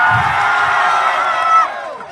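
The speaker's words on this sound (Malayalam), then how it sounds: "ജനക്കൂട്ടം എല്ലാം മറന്ന് കൈയടിച്ചു" Large outdoor crowd at a Rahul Gandhi political rally in Kerala cheering and roaring steadily, a sustained loud wash of voices that swells briefly near the end before fading.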